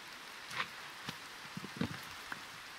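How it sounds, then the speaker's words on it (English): Minecraft rain in survival play on a superflat world falls softly and steadily, with light scattered patters of drops throughout. "Alright, that should clear the rain."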